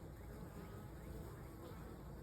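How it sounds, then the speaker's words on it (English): Bees fly in and out of a bucket swarm trap, making a faint, continuous, close buzzing drone with no talk. "There are a lot of bees going in and out of here"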